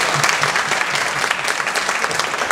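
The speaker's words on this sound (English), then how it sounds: "give Danny a proper round of applause" An audience claps steadily and fairly loud through the whole stretch, a dense, even patter of many hands at a senior luncheon.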